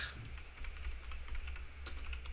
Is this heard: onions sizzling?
no